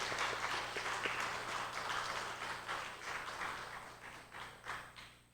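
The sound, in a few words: applause in church congratulating two members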